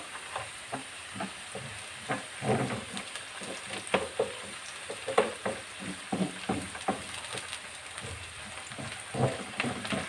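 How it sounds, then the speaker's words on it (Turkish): Tomato paste sizzles in a pan with fried onions, a steady crackling fry broken by the scrape and clatter of stirring, close and moderately quiet with no talking. "Güzelce salçamı da kavuracağım."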